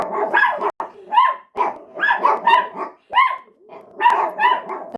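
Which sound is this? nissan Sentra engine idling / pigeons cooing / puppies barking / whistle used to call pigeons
puppies barking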